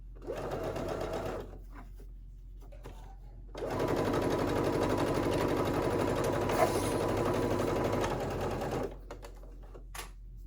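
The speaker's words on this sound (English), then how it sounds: "going to take it to my sewing machine with a regular stitch about 1/4 of an inch away from the raw edge there" A sewing machine runs a regular straight stitch along a dress pocket on a summer halter maxi dress: a brief run, a pause, then a long steady whirring stretch of about five seconds, close and alone.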